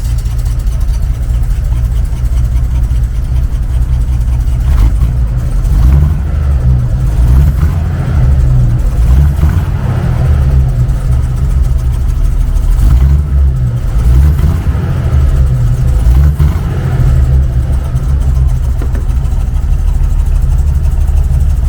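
A 1965 Chevy C10 pickup truck engine rumbles steadily with low, throaty revs rising and falling a few times, loud and close, with no voices.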